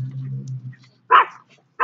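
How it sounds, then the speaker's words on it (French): A dog barks twice in short, sharp bursts, loud and close, after a low steady hum fades out. "c'est le chien qui aboie"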